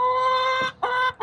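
Hens in a backyard coop giving a few short, close clucks with brief pauses between them, no talking.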